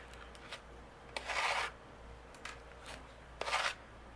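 Glue is spread across card with a small spreader tool, giving two soft rasping rubs close by, separated by faint scraping ticks in a quiet room.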